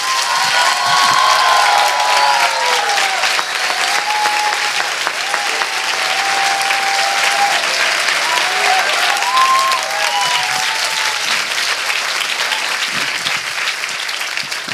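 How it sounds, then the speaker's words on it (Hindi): A church congregation claps for Jesus at a Hindi-language sermon, loud sustained applause from a large crowd with scattered cheers and whoops, continuing without letup for about fifteen seconds. "आइए यीशु के लिए एक अच्छी ताली बजाएंगे।"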